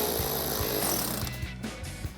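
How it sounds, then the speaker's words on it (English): A power tool whirs in short bursts and then pulses as it drives a screw into the bottom corner of a fender flare on a 2009-2014 Ford F-150, close and fairly loud. "Now we're going to come down to this bottom corner and reinstall that screw that we removed."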